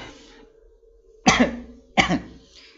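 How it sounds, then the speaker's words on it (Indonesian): Two close, forceful coughs about a second apart, with faint background noise in between and no speech. "Aduh, batuk."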